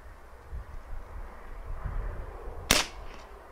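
A single sharp crack from a Niksan Serpent-S .177 CO2 air pistol fires outdoors over faint wind and distant background rumble, loud and brief.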